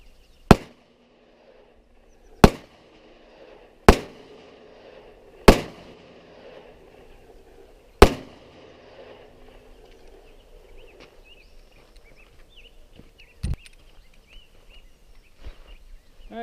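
Pistol firing five rounds of reloaded ammunition, sharp loud reports spaced about two seconds apart, followed by quieter handling clatter and a single softer knock.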